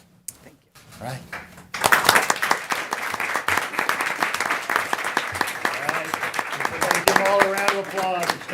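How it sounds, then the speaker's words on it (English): Sustained applause and clapping from the audience at a city commission regular session, loud and dense for most of the stretch, following a brief quiet opening, with some voices mixed in. "All a round of applause."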